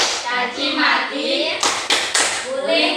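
Children clap their hands in a classroom clap game against bullying, three sharp broadband claps landing in quick succession near the end over steady chatter and chanting voices.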